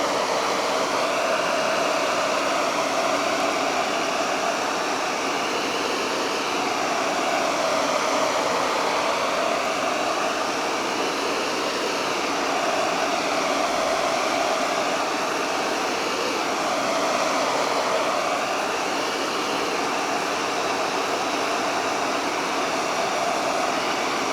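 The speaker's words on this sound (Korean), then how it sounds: "이때 우리가 준비했던 헤어 드라이기로 한번" A hair dryer blows in a constant, loud whirring rush that holds steady throughout without any talking.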